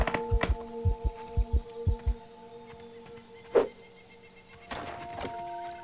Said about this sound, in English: you might be wondering what that heartbeat is. That is your stamina.